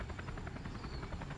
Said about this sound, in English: the thunder of rotor blades shook the stone walls as several helicopters hovered just beyond the cliff